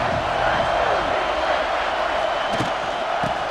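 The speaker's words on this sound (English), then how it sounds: "This crowd rising up, sensing that his defense needs some help." A stadium crowd roars and cheers steadily in EA Sports College Football 26, a dense, continuous wash of voices at even loudness with a few brief louder bursts near the end.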